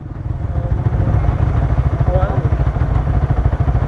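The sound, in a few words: Yamaha R15 v3 motorcycle engine running, tuned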